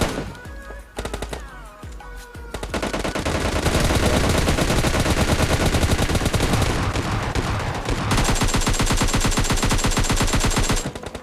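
Rapid gunfire in the mobile game PUBG Mobile Lite with a 6x-scoped AWM among the weapons, a few isolated shots then long loud sustained automatic bursts of closely spaced cracks, with no talking.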